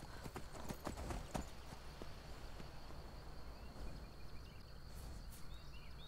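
Steady clip-clopping hooves of a horse named Frost in the video game Vagrant, a continuous trotting rhythm close by over a soft outdoor ambience, with no talk.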